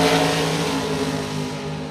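Supercharged Pro Charger dragster engine at a drag strip, a loud close harsh roar sustained through the short burst with a strong buzzing engine tone.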